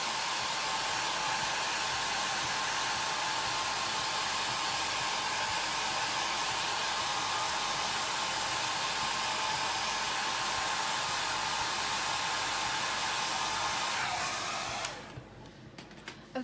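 A hair dryer blows on inked make-up bags in a steady, loud, close whoosh for about fifteen seconds, then switches off into near quiet.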